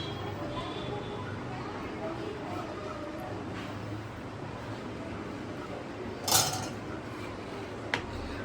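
Pabda fish curry (tel jhal) is mixed in a pan. A steady background hiss is broken near the end by a couple of sharp metallic clanks of a utensil against the pan.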